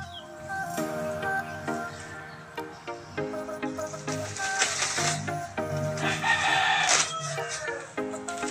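Several roosters crow loudly and repeatedly nearby, overlapping calls with hens clucking in the background.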